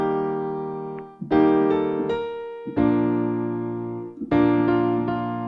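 Piano played with both hands on a song: sustained left-hand chords under a right-hand melody, a few struck notes and chords ringing out clearly, close and alone.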